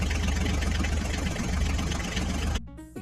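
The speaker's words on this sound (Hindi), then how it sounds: "ये देखो बच्चों, हमारे मिनी ट्रैक्टर बहुत कोशिश कर रही हैं इस रास्ते को पार करने की।" Small mini tractor engines chug steadily at close range while crossing a rough path of rocks and sand, a loud even rumble that abruptly drops to a quieter idle near the end.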